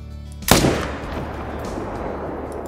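A single loud hunting rifle shot fires during a hunt in the video game Call of the Wild, a sharp crack followed by a long rolling echo that fades across the landscape.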